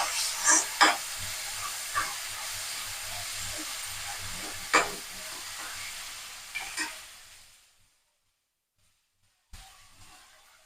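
Tomatoes cooking down for a vegetable kurma, giving a steady hiss with scattered stirring clicks and scrapes. The sizzle tapers off near the end to near silence, then one short knock.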